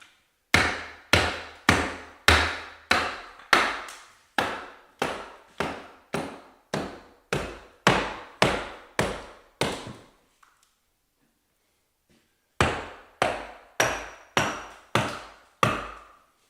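Metal braces and corner bead being hammered off a wall during renovation of a 100-year-old Masonic Lodge, a run of sharp, loud, evenly spaced hammer blows, a few seconds of silence, then another quick burst of strikes close by.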